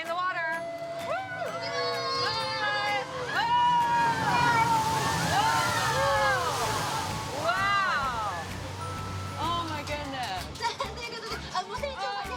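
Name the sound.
amphibious bus driving into lake water, splashing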